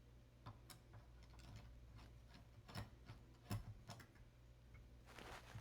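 A bolt is torqued down with a 4 mm hex key during a Gema AP01.1 rebuild, giving faint, close mechanical ticks and ratcheting clicks, with a few sharper clicks standing out from a quiet background.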